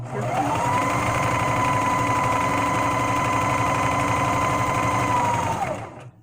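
A serger sewing machine stitches fabric in one continuous, fast whirring run at a steady pitch, then winds down and stops near the end, with no talking.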